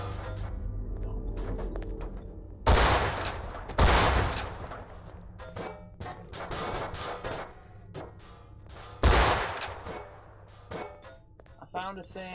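Gunfire in the game Garry's Mod on a horror map: several loud, sharp shots ring out at spaced intervals amid clicks and rustling, with faint voices in places.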